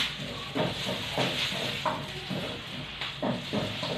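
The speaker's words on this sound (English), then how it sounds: "So now I will just saute the onion," Onion sautés in a pan for chicken adobo, a soft, fairly quiet hiss of steam and sizzle that swells and fades in gentle pulses, as if stirred.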